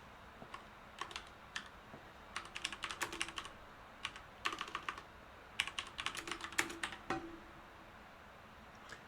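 Typing on a computer keyboard: quiet, close key clicks in irregular bursts and short runs, with pauses between clusters and no talking.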